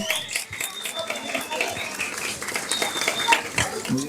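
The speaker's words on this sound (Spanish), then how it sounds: "Fuerte las palmas para él" An audience of parents, teachers and classmates at a school event claps for a secondary-school student, with steady mid-level applause and voices talking underneath throughout.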